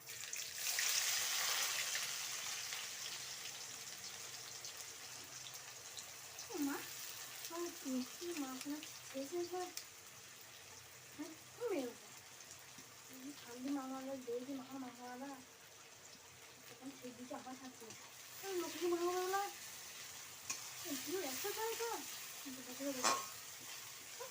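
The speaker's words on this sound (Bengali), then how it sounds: "এরপর আমি পেঁয়াজ কুচিগুলো দিয়ে দিচ্ছি।" Chopped onions fry in hot oil for a chicken curry, a steady close sizzle with occasional stirring scrapes running throughout, while someone talks over the cooking.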